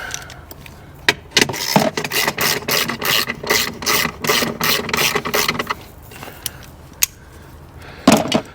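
A ratchet backs off a bolt on the battery clamp bracket of a Porsche 991.2 GT3, giving close, rapid rasping clicks in steady bursts that stop and start, with a few lone clicks afterward.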